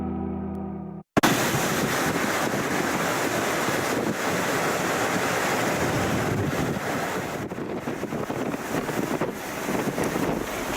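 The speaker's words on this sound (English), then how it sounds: "We're seeing some of the big waves a little bit earlier when the storm was a bit stronger" Heavy storm surf in Puerto Rico roars steadily after a brief opening, a loud, continuous wash of crashing waves mixed with wind buffeting the microphone.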